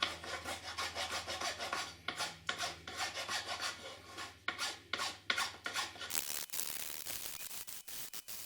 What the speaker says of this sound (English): Now we have to smoothen this with the file.